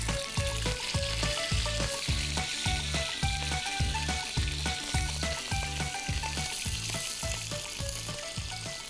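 Tulingan fish frying in oil in a pan, a close, steady sizzle with rhythmic crackling pulses running for several seconds, with no one speaking.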